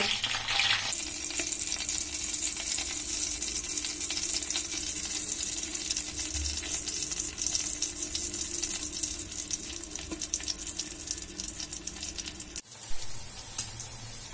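Bread and cauliflower snack patties deep frying in oil over a medium flame, a steady, dense sizzle and bubbling that holds nearly unbroken for the whole stretch, close and fairly loud, with a short dip near the end and no talking.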